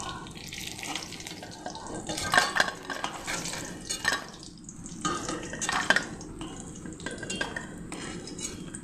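Goat-fat fritters are lifted out of a frying pan with metal utensils, giving a series of clinks and scrapes against the cookware, with bursts of sizzling around them and no talk.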